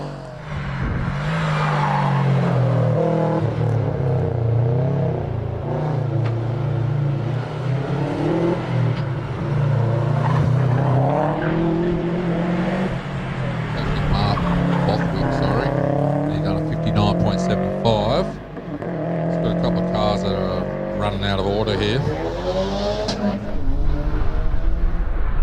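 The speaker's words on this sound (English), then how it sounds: "As we see Andrew Admiral now in his very well presented GC8 WRX." A Subaru GC8 WRX races up a hillclimb course, its engine revving and shifting through rising and falling pitches as it accelerates away, with a commentator talking over it throughout.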